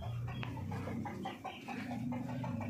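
Desi free-range hens on a farm clucking in a steady run of short, close calls over a low background hum.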